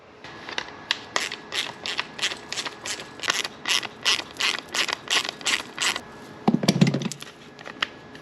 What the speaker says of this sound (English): Undo 2 bolts.